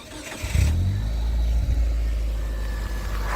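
A Proton Waja with an MMC automatic gearbox starts up and settles into a steady, loud idle. A brief cranking burst is followed by a continuous low engine hum that holds to the end, with no talk.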